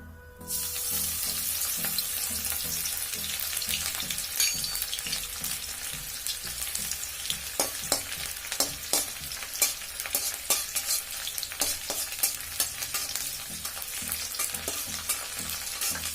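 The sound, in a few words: green chilies and garlic frying in hot oil in a pan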